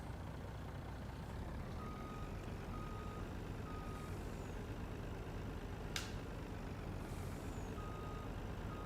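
A truck in the Farming Simulator 19 video game idles with a low engine drone, while a steady series of reversing beeps and a brief air-brake hiss sound over it.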